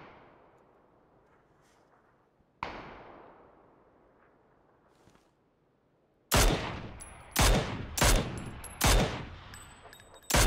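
Gunfire in the video game PUBG: a few faint distant shots early on, then a loud close volley of sharp cracks in quick succession, each with a short ringing tail, and no talk.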